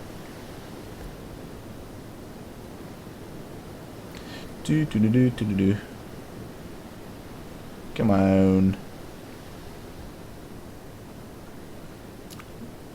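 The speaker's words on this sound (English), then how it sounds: "How am I still hearing the waves crashing onto the shorelines while I'm underwater?" Steady broadband wash of waves crashing on a shoreline in the driving game BeamNG.drive, heard while the car sits underwater, continuous and moderately loud beneath two brief bursts of speech.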